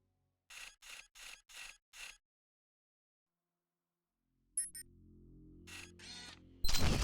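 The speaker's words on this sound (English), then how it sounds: "I should take a photo." Five crisp camera shutter clicks in steady succession in the NCIS crime investigation game, followed by a short electronic chirp, a low rumble and a brief rustle.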